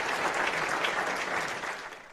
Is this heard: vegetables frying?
no